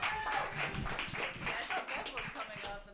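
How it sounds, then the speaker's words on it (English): Applause from an open mic audience, a fairly faint, scattered spatter of claps with some distant voices mixed in, fading slightly toward the end. "Round of applause all the way up to the stage."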